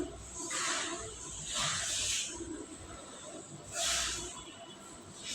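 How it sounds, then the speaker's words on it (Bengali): Dried fish and eggplant sautéing in a hot pan, a steady sizzling hiss that swells in three loud surges as the food is stirred, close and alone. "এখন আমি ভালো করে কষিয়ে নিচ্ছি আর এই যে অল্প পরিমাণে বেগুন দিয়ে দিয়েছি"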